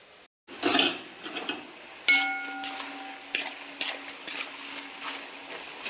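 Sliced raw banana chips frying in hot oil while a spoon stirs and scrapes against the pan, producing repeated clinks and rattles over a steady low sizzle, with no one talking.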